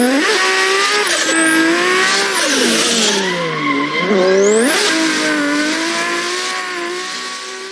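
Car drifting under handbrake with the clutch held, tires squealing loudly in long sustained screeches that bend in pitch over a revving engine, close and continuous.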